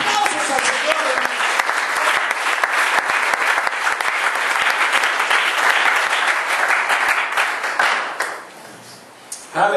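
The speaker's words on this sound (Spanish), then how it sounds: "Ofrenda de aplausos al Señor." Church congregation applauding during a Spanish-language service, dense sustained clapping from a full room for about eight seconds before fading out, with no voices.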